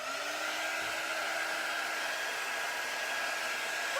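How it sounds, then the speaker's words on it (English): A quick dry heat tool blows hot air onto a wet transfer, a steady, even whir with a high whine that holds unchanged throughout, fairly faint and with no voices. "So let's get it really dry with our quick dry tool."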